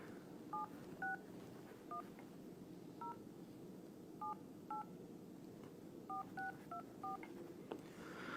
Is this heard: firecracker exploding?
no